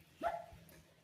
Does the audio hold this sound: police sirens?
no